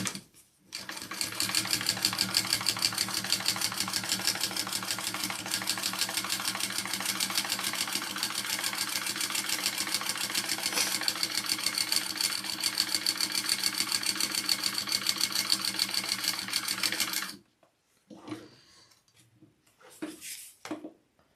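A sewing machine runs a steady, loud seam allowance for a Bartleby garment, with a continuous fast needle rhythm for about seventeen seconds before it stops, leaving a few faint handling sounds.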